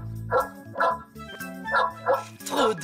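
An animal in a French Boule et Bill cartoon imitates a dog barking, five loud bark-like yelps in a bouncy rhythm over light cartoon music.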